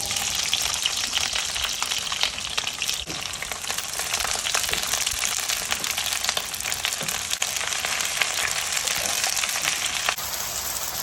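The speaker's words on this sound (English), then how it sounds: "And because the pan was already hot, this oil is going to heat up very quickly. Then I'm going to add the onion." Onions frying in hot oil in a pan for a beef and broccoli stir-fry, a loud dense crackling sizzle that runs steadily throughout with no voices.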